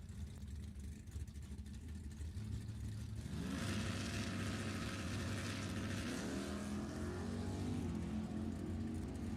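Drag racing cars, including a Corvette, launch at a race club strip; a steady engine drone bursts into loud, rising acceleration that roars on, close and powerful.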